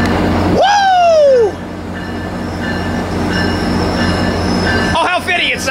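A Metrolink passenger train led by an MP36PH diesel locomotive passes a station, opening with a loud falling horn-like squeal, then a sustained rumbling roll of railcars with steady tones and a brief clatter near the end.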